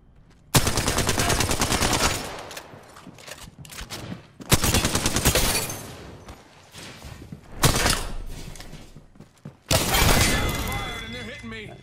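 Rapid automatic gunfire from a shooter video game comes in four loud, dense bursts of a couple of seconds each, separated by short quieter gaps, close and harsh with no one talking.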